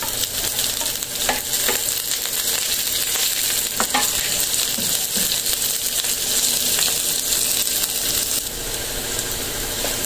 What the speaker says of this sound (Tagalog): Para maluto ng mabuti yung ating iginigisang sibuyas, bawang, siling, yung kulay pula.